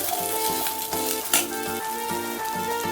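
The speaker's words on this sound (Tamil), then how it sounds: "இது வேகட்டும் இது இந்த எண்ணெயிலேயே கொஞ்சம் வேகணும்" Ground spice paste cooks in sesame oil in a pan for pepper curry, a steady close sizzle with light stirring scrapes and one brief louder clatter of utensil against the pan, with no voices.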